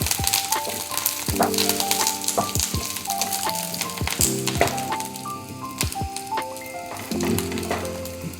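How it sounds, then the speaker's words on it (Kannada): Curry leaves and dried red chillies frying in hot oil, a dense crackling sizzle with sharp pops throughout, close and alone. "ಕರ್ಬೇವಿನ ಸೊಪ್ಪು, ಒಣಮೆಣಸು ಹಾಕಿ ನೀಟಾಗಿ ಫ್ರೈ ಮಾಡಿ ಈ ಥರ"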